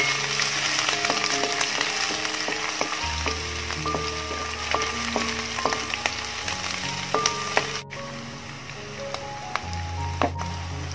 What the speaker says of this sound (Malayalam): ഇനി അതിലോട്ട് രണ്ട് ടീസ്പൂൺ ഇഞ്ചി, രണ്ട് ടീസ്പൂൺ വെളുത്തുള്ളി, ഒരു അഞ്ച് പച്ചമുളക് കീറിയത്, ഇതെല്ലാം നന്നായിട്ടൊന്ന് വഴറ്റിയെടുക്കാം.